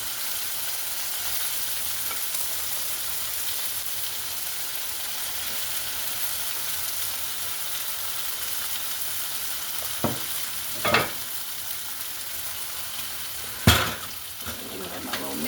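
Cornstarch-coated beef searing in a pan for beef and broccoli, a loud continuous dense sizzle throughout, with a few brief clanks of a utensil near the end.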